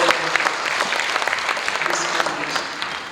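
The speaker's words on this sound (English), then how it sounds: "So I think we need to clap for the farmers for Trees for Global" Audience applause at a 2023 stakeholders event, honoring farmers: dense, steady clapping from a crowd that holds fairly loud for the full few seconds, with a faint voice woven in.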